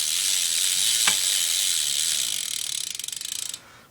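A stock driver in the rear hub of a cherry BMX bike ticks with a rapid ratchet buzz that slows into distinct clicks near the end, loud and close.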